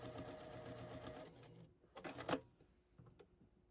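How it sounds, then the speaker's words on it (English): A sewing machine runs a quilt fabric seam in a fast, steady mechanical whir, then stops and leaves a few close clicks and handling sounds, with no talking. "Now here I go with the next piece, and I'm laying it right side down, sewing that seam in."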